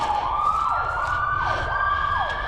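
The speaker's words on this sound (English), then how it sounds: "Got an ambulance going by." An ambulance siren wails past near a commercial-area shop, its rising and falling tone sweeping steadily over a low traffic rumble, loud and continuous with no talk.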